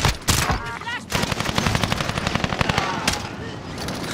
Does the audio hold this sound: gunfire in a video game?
yes